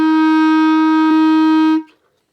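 A clarinet plays the note fa with the left thumb added, a single clear, sustained tone held evenly for almost two seconds with a slight blip midway, then stopping cleanly into silence.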